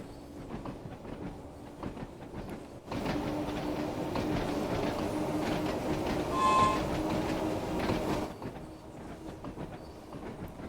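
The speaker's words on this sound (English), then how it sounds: "the track wasn't as clickety-clack as this track" Class 31 diesel locomotive in a train simulator game running along track on the NLL NSE route, with steady rumbling and rhythmic clickety-clack of wheels over rail joints. The sound swells louder through the middle with a brief high tone.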